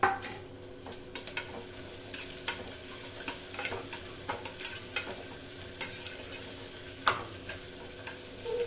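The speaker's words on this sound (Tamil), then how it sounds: "ஒரு வெங்காயம் நல்லா ஃபுல்லாக போட்டு நல்லா வதக்கி எடுத்துக்கலாம்." Chopped onion sautéing in a pan for banana flower biryani, a soft continuous sizzle with intermittent scrapes and taps of a stirring spoon, quiet and close, with no talking.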